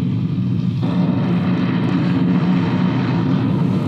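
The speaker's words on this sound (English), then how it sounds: "Okay, that's the point that the engine quits." A light aircraft's engine cuts out in flight. A loud, steady propeller drone shifts abruptly early on and gives way to a continuous rushing roar for the rest of the moment.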